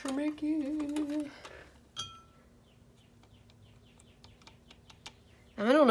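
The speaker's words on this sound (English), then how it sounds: "I don't know if you can hear the birds outside, but they are going nuts right now." Wild birds are chirping outside, heard indoors at a bird feeder as a scatter of faint, high, quick tweets, set among clicks and light tapping from a table, with a voice breaking in briefly at the start and end.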